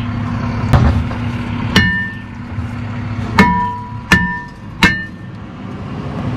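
Hammer blows knocking a seized rear brake rotor off the hub of a Nissan Rogue Sport, five sharp metallic strikes spaced unevenly, ringing briefly over a steady low hum in a garage.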